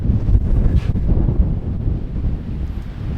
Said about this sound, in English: I don't know if you can hear, it is extremely windy.